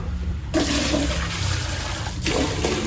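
A water softener regenerating as water is drawn in from a drum, a rushing, gurgling flow that surges in loudly, eases, then surges again near the end.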